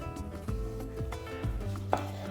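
A knife slices tomatoes into rounds on a cutting board for ratatouille, a handful of evenly spaced firm thuds close up, with a slight clink near the end.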